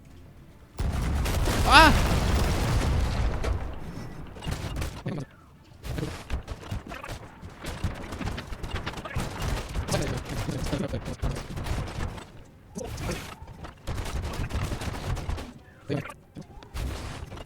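Ship guns firing during a naval battle in the video game Sea of Thieves, repeated heavy booms and crackling bursts over several seconds amid game noise, with a brief shout and other voices in between.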